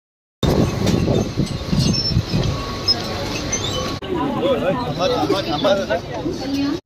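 Voices and station bustle blend with the rumble of a Mumbai suburban local train nearby at Badlapur station, steady noise throughout with a brief break midway.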